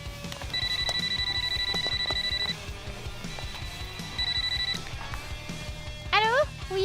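A phone rings with a steady electronic alarm-like tone in two long bursts, loud and close, with a short rising chirp after, over a busy background of taps and movement.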